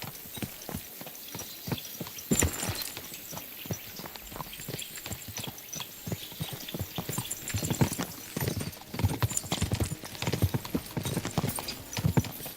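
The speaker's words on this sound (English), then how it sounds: "Watch out with that horse!" Horse hooves clip-clopping in the medieval video game Kingdom Come Deliverance 2, a continuous, uneven run of hoofbeats close by over outdoor ambience, growing busier and louder toward the end.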